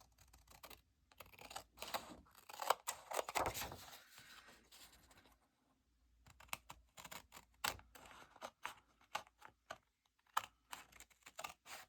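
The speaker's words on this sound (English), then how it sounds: "So we'll just trim this." Scissors snip and trim a printed journal card on 200 gsm paper, giving quick, quiet clicking cuts in irregular bursts with a short pause midway. No one speaks.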